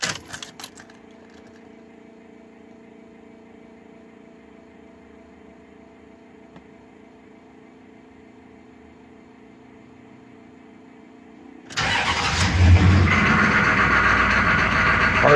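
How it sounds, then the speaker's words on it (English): 6.5 diesel truck with a new PartsMaster starter: a long steady hum, then the starter cranks briefly and the engine catches quickly, settling into a loud rough idle. "now we're gonna start the truck, and you can hear the comparison of the difference in the new starter"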